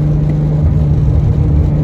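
A car with a newly fitted differential driving home on the road, its engine holding a loud, steady drone with a firm low hum and rumble from inside the cabin.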